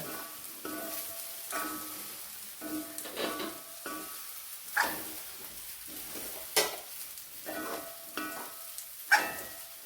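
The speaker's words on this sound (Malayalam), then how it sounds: "ദോശക്കല്ലിലാണ് ഇറച്ചി പൊരിക്കുന്നത്" Meat sizzles and crackles on a hot dosa griddle while a utensil scrapes and stirs it in short repeated strokes, close and moderately loud.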